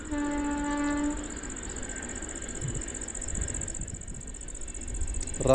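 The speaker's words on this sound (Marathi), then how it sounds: "रेल्वेचा आवाज मात्र सारखा येतो बघा धडांग धडांग धडांग धडांग" A train horn sounds briefly at the start, followed by a low steady rumble of a passing train at a distance, with a high cricket drone throughout.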